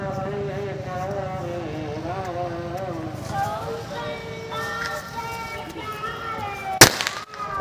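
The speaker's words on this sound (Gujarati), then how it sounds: "અમારો છોકરો ફટાકડા ફોડે છે" A boy sets off firecrackers: people talk over a low hum for most of the stretch, then one sharp, loud firecracker bang cracks out near the end, followed by a brief crackle.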